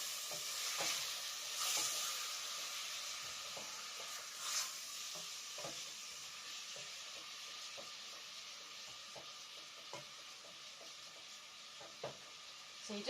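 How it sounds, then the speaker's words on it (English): Pork frying in sesame oil in a pan, stirred steadily, giving a continuous close sizzle and hiss with repeated scraping and stirring knocks throughout. "So you just want to get your meat cooking a bit before you put your vegetables in."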